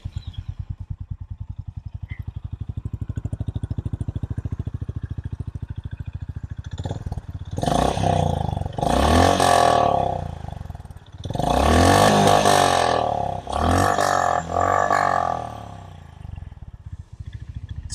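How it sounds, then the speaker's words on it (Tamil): A 2025 Honda CB350 H'ness motorcycle idles with a fast, even thump, then its exhaust roars through several sharp revs, loud and close, settling back between bursts. "இந்த வண்டியுடைய எக்ஸாஸ்ட் நோட் பார்ப்போம்."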